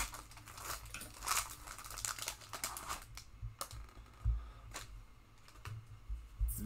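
A Panini Prizm football card pack opened up close, with crinkling foil wrapper and scattered sharp clicks and rustles of cards handled, then a few soft thumps, no talking.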